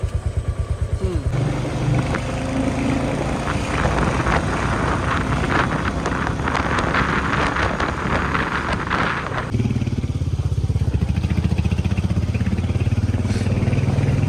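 A motorcycle rides along the mountain road to Jogini waterfall near Manali. Its engine drones steadily and close, with a rise in revs midway and wind rushing across the microphone throughout.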